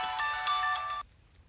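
A mobile phone ringtone plays a short melodic burst for about a second, then cuts off abruptly, as an incoming call in a Telugu film scene.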